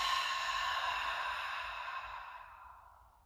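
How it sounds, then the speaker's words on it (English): A deep, slow exhale through the nose during a guided breathing exercise, a soft breathy rush that is steady at first and then fades out over about three seconds, heard close up with no talking. "Deep exhale."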